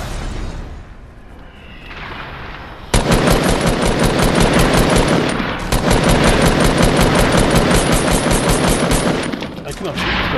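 Fortnite video game gunfire: sustained rapid bursts of automatic fire, loud and close, rattling on for several seconds with brief breaks after a quieter opening.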